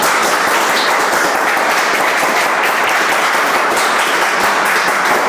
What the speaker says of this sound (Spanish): Den el aplauso, Señor.